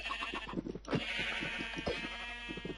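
Sheep bleat repeatedly in the video game Minecraft, a run of close, wavering animal cries that carry steadily through the whole moment with no talking.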